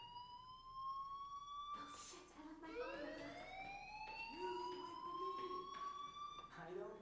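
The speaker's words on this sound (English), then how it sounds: "do you hear that fire alarm?" Fire alarm wailing in the game Life is Strange, a rising and falling siren-like tone repeating steadily with a voice speaking over it.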